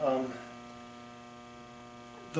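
A 1964 World's Fair pinball machine hums steadily, a low electrical drone with even harmonics that holds alone for a couple of seconds, close and moderately quiet.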